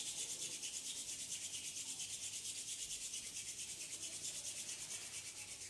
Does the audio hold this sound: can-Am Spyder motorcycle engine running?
no